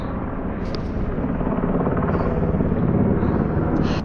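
A Life Flight rescue helicopter comes in to land in the mountains, its loud, close rotor chop and engine roar forming a dense, steady rumble that swells slightly as it nears, with no talking.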